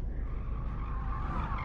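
A car brakes and skids in the Gran Turismo racing game, a sustained tyre squeal over a low engine rumble, loud and continuous throughout.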